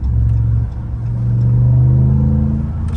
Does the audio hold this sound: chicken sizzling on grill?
no